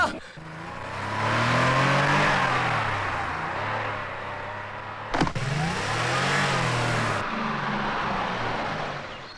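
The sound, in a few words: car engine revving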